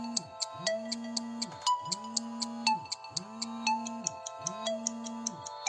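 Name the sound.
phone ringing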